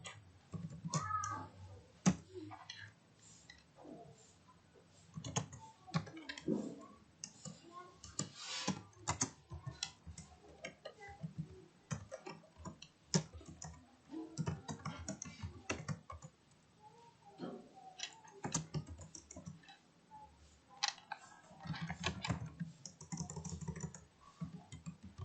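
Uneven bursts of clicky typing on a computer keyboard while entering JavaScript code, near and fairly quiet, with soft pauses between runs and a faint cat meow at times.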